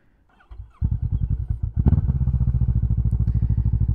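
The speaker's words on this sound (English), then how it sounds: "Gonna take the Vulcan 650 out for a ride." A Kawasaki Vulcan 650 S motorcycle starts up and settles into a loud, close, throbbing idle, its engine pulses firing in an even rapid rhythm, with a few clunks as it gets going.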